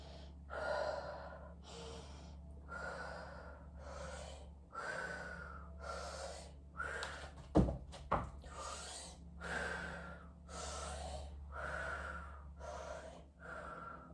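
Heavy rhythmic breathing during a squatting exercise, about a dozen deep, loud inhale-exhale cycles close up with gasps and snorts, a brief rubbing thump midway, and no talking.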